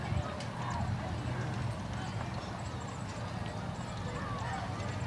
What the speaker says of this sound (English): And we've got two draft horses